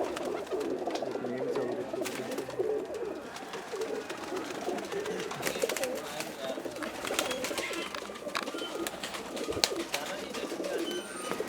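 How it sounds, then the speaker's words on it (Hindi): Pari Packer pigeons cooing on a rooftop loft, soft repeated coos set among steady outdoor ambience and occasional wing flutters and knocks, at moderate distance with no talking. "ये टैडी और अली वाले कबूतर हैं जी"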